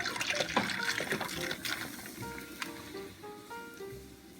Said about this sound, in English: I'm going to go ahead and add the beer here.